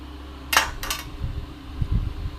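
A knife cuts through rolled gaja dough on a board, two sharp scraping strokes followed by soft dull taps and thuds, close and fairly quiet against a low hum.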